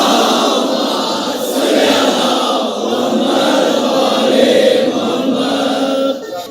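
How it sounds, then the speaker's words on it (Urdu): A crowd recites salawat together at a religious gathering in Pakistan, a dense, sustained wash of many voices chanting in unison, loud and steady throughout before cutting off abruptly near the end. "دعا کی قبولیت کے لیے صلوات کریں."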